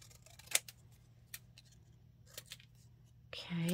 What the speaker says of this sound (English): I'm just going to cut this out and make it look very banner-like.